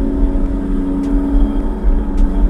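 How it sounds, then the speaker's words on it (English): A Stage 3 Audi RS3 with a catback exhaust holds a deep, steady, loud droning roar, a continuous low rumble with no break. "the way it sounds too with this exhaust is just menacing"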